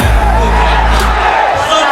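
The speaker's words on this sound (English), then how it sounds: "the crowd goes wild" A large crowd cheers and whoops at a mobile esports finals between Team Liquid PH and Yoodo Red Giants, a loud, sustained roar of an arena audience with babble throughout.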